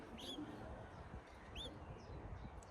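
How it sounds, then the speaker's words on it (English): Baby birds squawk from a nest outdoors, two or three short, high chirps heard faintly and a little distant over a rumbling background of wind or ambient noise. "I could just hear these little babies squawking"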